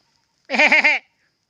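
A single sheep on a farm gives one short wavering bleat close by, loud and clear, with silence before and after.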